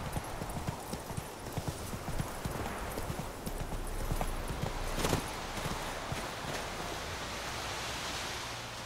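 Roach, the horse in The Witcher 3, gallops away with steady clip-clop hoofbeats against a windy outdoor field ambience, the rhythmic thuds holding loud and close throughout.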